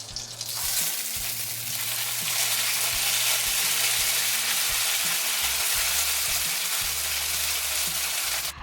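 Homemade gnocchi boiling in a pot of water, a dense, steady rushing bubble that starts abruptly and holds loud throughout, with low background music underneath.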